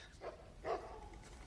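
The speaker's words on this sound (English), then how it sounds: "Dogs." Two or three faint, distant dog barks come through a quiet, muffled background.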